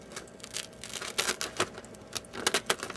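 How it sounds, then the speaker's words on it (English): A fruit roll-up peeled off a Teflon-coated Excalibur dehydrator drying sheet, giving a run of close, crisp crackling and tearing bursts in an irregular rhythm with no talk. "Now, as far as the fruit roll-up goes, you just peel it off the sheet."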